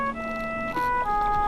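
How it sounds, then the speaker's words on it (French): A mobile phone ringing outdoors beside a river while fishing, its electronic melody of steady tonal notes repeating loudly and close for the whole stretch over faint background ambience. "Ça c'est mon téléphone."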